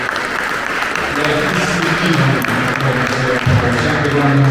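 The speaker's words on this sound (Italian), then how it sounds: "chiederei un applauso" An audience applauds at a live event honoring Giulietta Sacco; the clapping is a moderate wash that rises partway through, mixed under someone speaking Italian over a microphone.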